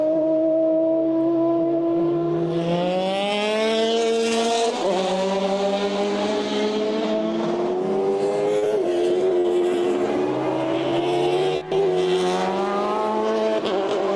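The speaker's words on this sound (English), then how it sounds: "Great sound off those cars." Several high-revving Formula BOSS race car engines whine loudly together during qualifying at Mondello in Ireland, pitch rising and falling as they shift gears and accelerate along the track.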